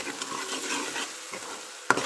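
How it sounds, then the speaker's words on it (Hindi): Spices fry in a pan for a spiced eggplant bharta, a soft continuous sizzle under a few light stirring scrapes and one sharp tap near the end. "मिसालों को अच्छे तरीके से हमने मिक्स कर लेना है इस तरह से"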